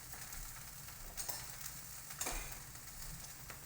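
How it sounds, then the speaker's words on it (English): Already-cooked meat sears in a hot pan with olive oil, a quiet, steady sizzle punctuated by a couple of brief clinks or scrapes. "get a nice sear on the outside"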